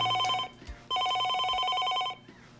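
An old-style 1980s telephone bell rings loudly in two long trilling bursts separated by a short pause.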